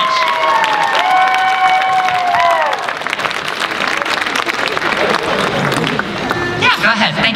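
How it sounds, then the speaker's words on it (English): Convention audience at an anime masquerade applauding and cheering for an onstage volunteer, loud sustained clapping mixed with shouts and whoops, some whistle-like tones early on and a burst of cheering near the end. "Give our volunteer a big round of applause."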